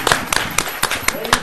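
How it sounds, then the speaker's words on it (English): Crowd applause for DJs at a hip hop event, a quick run of sharp claps layered over a dense, noisy room. "Round of applause."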